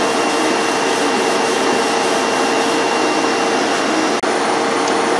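Sandpaper, coarse 80 grit, rubbed against the body of a Stanley No. 5 hand plane, making a steady, continuous rasping hiss up close with one brief break near the end.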